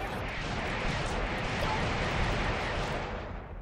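A loud, sustained roar of broadband noise like a long explosives blast in the mobile game Kick the Buddy, rumbling steadily for several seconds, then tapering off slightly at the end.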